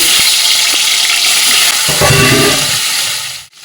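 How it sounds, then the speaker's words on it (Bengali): Hilsa fish heads frying in hot mustard oil, a steady loud sizzle with a broad hiss that runs nearly throughout, with a brief clatter of stirring midway before it suddenly cuts off near the end. "তেলটা একটু গরম হলে মাছের মাথাগুলো ভেজে নেবো"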